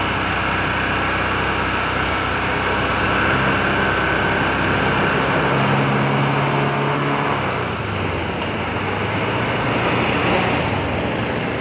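Honda Click scooter engine running steadily after an oil treatment, held at a constant, fairly loud drone close to the listener for several seconds with only slight shifts in pitch.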